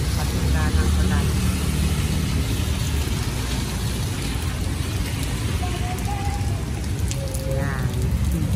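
Steady patter of rain hitting surfaces in Zamboanga City, Philippines, with a voice talking over it and traffic passing nearby.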